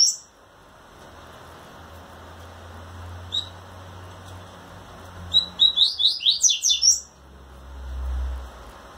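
A male coleiro pardo seedeater sings to a female: brief high chirps early, then a rapid run of about eight loud, clear trilled notes, close by over a low background hum.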